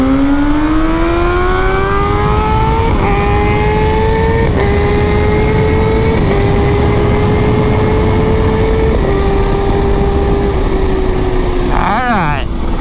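A stock Kawasaki ZH2 and a 2016 ZX10 project bike doing roll-on acceleration runs, one loud engine climbing steadily in pitch through several gear changes, close and continuous.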